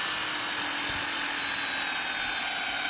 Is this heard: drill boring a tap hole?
yes